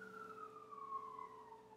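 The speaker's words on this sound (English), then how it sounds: "Sorry about that siren." A distant siren wails faintly, its tone sliding slowly downward over a steady low hum.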